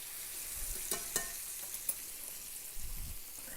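Chicken pieces frying and browning in a pan on a stove set to about 8, a steady faint sizzle with a few soft clicks and stirring bumps, no voices.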